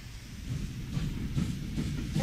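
A train rolls along in the video game Wobbly Life's snowy version, a low rumbling chug with soft rhythmic pulses, moderately loud and steady with no talking.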